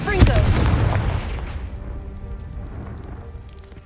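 Confringo fire-blast spell from Hogwarts Legacy, cast at a pile of debris blocking a stairwell: a single deep booming explosion with a sharp crack at onset, rumbling out over a few seconds.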